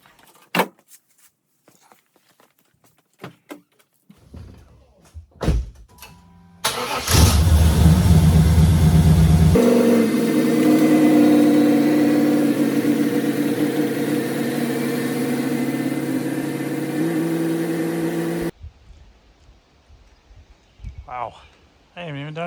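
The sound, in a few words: car engine idling as the car is pulled outside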